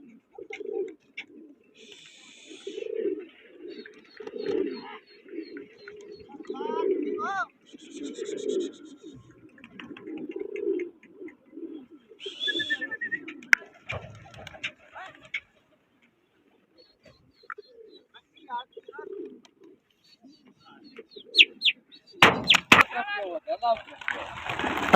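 Pigeons at a pigeon flying competition in Taunsa Sharif, repeated low cooing calls in irregular bursts with brief chirps, some splashing, and people talking nearby.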